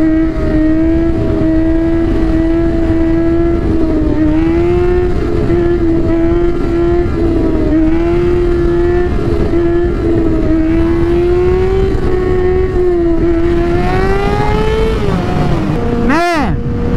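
A Yamaha R sport motorcycle engine held at a high, steady whine during a wheelie, rising slightly in pitch before a sudden loud whoosh near the end, with faint voices underneath.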